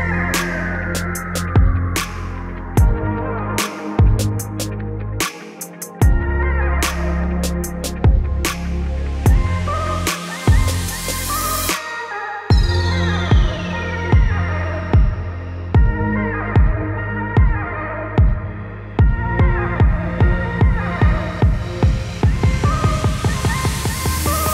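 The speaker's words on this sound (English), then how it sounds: "We're gonna cut my logo out of this chunk of aluminum." A cheap desktop CNC machine mills a logo out of a chunk of aluminum, with stepper motors whining through rising and falling tones, sharp pulsing cutting bursts, brief pauses, and a fast repetitive chattering run near the end, all close and with no talk.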